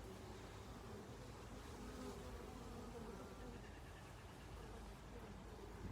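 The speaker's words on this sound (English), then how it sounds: "bees" Honeybees buzzing around a hive entrance as foragers come in, a dense, steady, faint drone of many wings with no voices.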